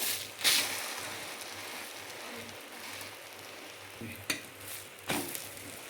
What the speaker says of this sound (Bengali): চাটু বসিয়ে দিয়ে আমি সাদা তেল দিয়ে নিয়েছি অমলেটটাকে ভাজা করার জন্য।